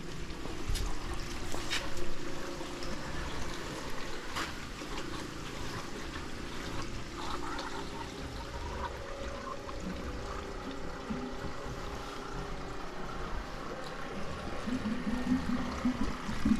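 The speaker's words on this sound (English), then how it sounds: "we're going to crack open the next loop, and we should hear more bubbling almost" A DS Stoves Aqua-Gem 3200 wood boiler heating loop bubbles and trickles as it fills with water, a continuous close gurgling with small pops and splashes that keep going throughout, no voices.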